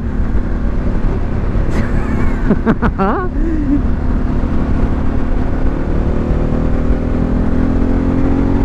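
Harley-Davidson Pan America motorcycle engine while riding in fifth gear, a steady loud drone with road and wind noise throughout, and a brief shout and whistle-like sounds near the start.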